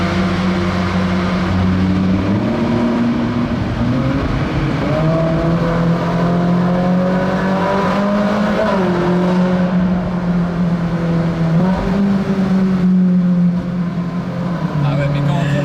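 A Ferrari engine and exhaust drone steadily while cruising through Monaco at night, the pitch rising and falling gently with throttle, heard from inside the cabin as people talk over it.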